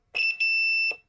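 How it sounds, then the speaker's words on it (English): A monitor's circuitry gives off a piercing electronic beep while its button is being tested, a short tone with a couple of brief stutters, close and clear in an otherwise quiet room. "why is that beeping?"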